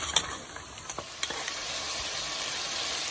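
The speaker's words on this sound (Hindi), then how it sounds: "इसको कम से कम 1-2 मिनट हम भूनेंगे कि ये गार्लिक जिंजर इसमें अच्छी तरह से मिक्स" Garlic and ginger fry in a pan for degi aloo gosht, a steady close sizzle and hiss broken by quick scraping stirs and clicks of the spoon, with no voices.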